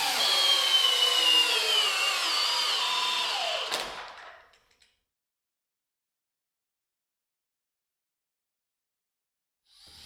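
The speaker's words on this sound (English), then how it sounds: "Flex's flagship hammer drill put out 425 inch-pounds of soft torque in our lag bolt torque test." A Flex flagship cordless hammer drill drives a lag bolt during a torque test, giving a loud, steady grinding whine for about four seconds that strains and then cuts off into silence.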